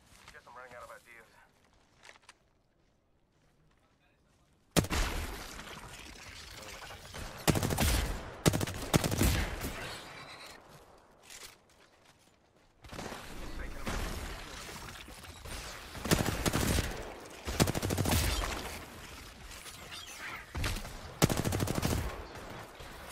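Gunfire from a team in a video game, scattered shots and rapid bursts after a quiet opening, with players talking over much of the shooting.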